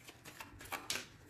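A deck of playing cards being cut during a tarot-style reading, heard as a few short, soft papery riffles and slaps close by, the last one slightly louder, with no talking.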